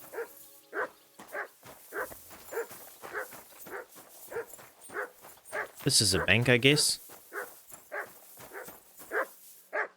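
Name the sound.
dog barking in Kingdom Come Deliverance 2 video game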